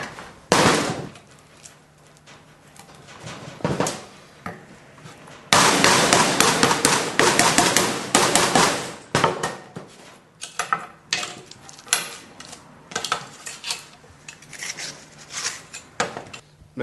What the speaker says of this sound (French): on va procéder à la découpe